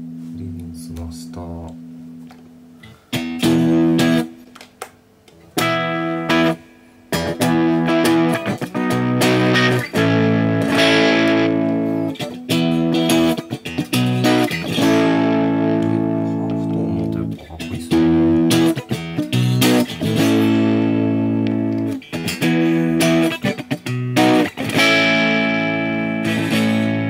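An electric guitar played through heavy distortion, with thick sustained chords and bursts separated by short gaps, loud and close, and a person talks between phrases.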